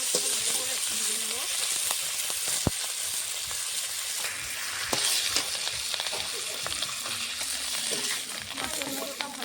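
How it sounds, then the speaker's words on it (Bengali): A fish head frying in oil in a pan, a steady bright sizzle with crackling pops throughout, fairly close, with occasional stirring clatter and no voices. "মাছের মুড়োটা লাল লাল করে ভালো করে ভেজে নেব"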